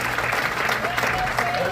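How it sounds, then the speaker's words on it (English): Applause for the serving staff from an audience at a comedy club show, a steady wash of clapping filling the short stretch without pause. "Can we get a round of applause for your serving staff?"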